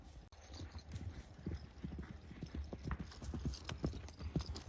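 Horses' hooves clip-clop in a steady, uneven patter at a horse farm in Kyrgyzstan's Chüy region, fairly quiet and continuous, with no talking.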